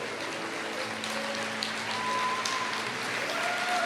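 Steady crowd applause at a church service fills the space, a dense wash of clapping at a constant level with faint tonal sounds drifting underneath.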